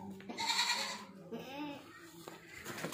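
A male Sojat goat at a goat farm lets out two loud, wavering bleats close by, each lasting about half a second, with a short pause between them.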